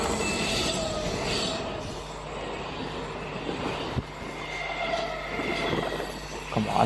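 A high-speed EMU train in India rushes past with a continuous loud rumble of wheels on rail and a thin metallic squeal, steady throughout with a brief clank near the middle.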